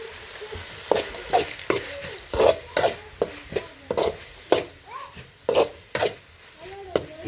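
A spoon stirring chicken with masala in a hot pan, giving repeated scraping and clacking strokes over a soft sizzle, close up, with no talking.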